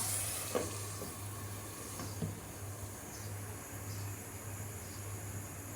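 Pabda fish curry with eggplant sizzles in a pan, a soft, steady frying hiss with a few faint stirring scrapes and a low background hum, no voices.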